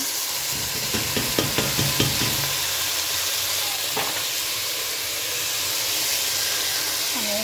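Rice tipped into hot oil in a pan for chicken biryani, giving a few stirring scrapes and knocks at first, then a steady soft sizzle and hiss that carries on alone.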